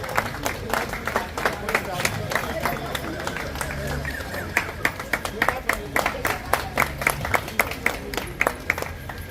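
Audience applause at a gym competition award ceremony, with dense, steady clapping from a sizable crowd throughout and sharper individual claps standing out toward the end.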